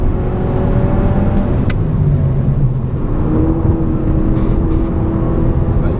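Audi TT accelerating on a race circuit, a loud steady engine drone with rising and shifting tones heard from inside the car for several seconds.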